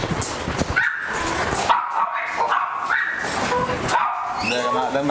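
Several dogs bark and yip loudly in an outdoor kennel run at a private animal collection, with overlapping barks, whines and a person speaking among them.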